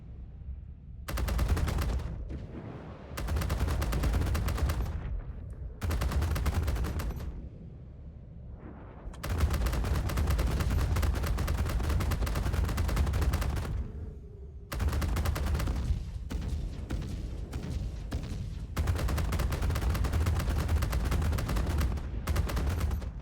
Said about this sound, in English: Really love how these guns sound now.